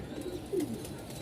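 Pigeons coo softly at the Mirpur pigeon market, a couple of low throaty calls amid a faint background murmur.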